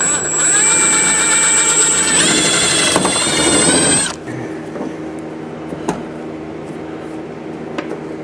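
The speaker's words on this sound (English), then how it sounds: "So we'll drill these out." A power drill whines loudly for about four seconds as it drills out plastic fastener pins from a Jeep Gladiator's inner fender liner, then stops. Faint clicks and small knocks follow in a quieter background.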